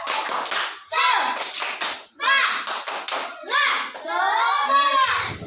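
A classroom of children performs the 'tepuk semangat' clapping chant, shouting in short rhythmic phrases punctuated by sharp group hand claps and taps, loud and close, with brief pauses between bursts.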